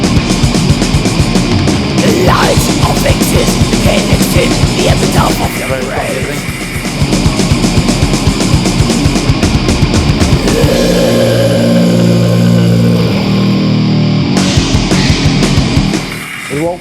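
Fast, loud thrash metal blasts continuously with dense drums, distorted guitars and shouted vocals, the texture shifting partway through into a sustained riff before the full barrage returns.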